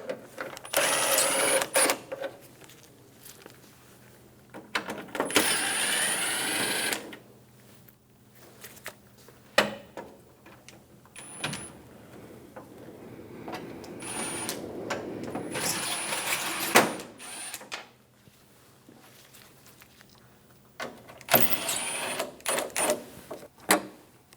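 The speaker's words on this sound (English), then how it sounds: "Remove the 4 7mm screws on the top of the grille." Four 7mm screws being removed from the top of a GMC K1500 pickup grille, heard as repeated short bursts of whirring from a power driver at moderate loudness, with quiet pauses and small clicks between them.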